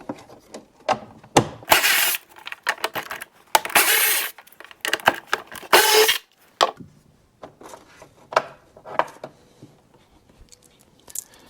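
Ratchet working out 4mm bolts on the lid of a 2020-2022 Indian Challenger motorcycle, with irregular bursts of clicking and sharp metallic scrapes, some louder rasping runs, then scattered lighter clicks and taps.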